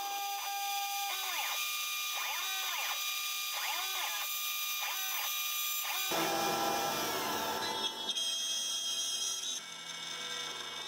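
An end mill on a milling machine takes a light finishing pass on a wooden geared clock stand, a steady high-pitched machining whine with tonal harmonics in pulsing cycles, then the tone shifts into broader noisy cutting later on; no talk.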